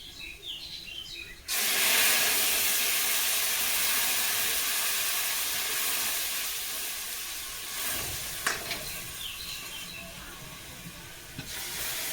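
Lentils tipped into a hot pot of browned oil set off a sudden loud sizzle that starts abruptly and keeps hissing and crackling steadily, fading a little over time, with a few stirring knocks.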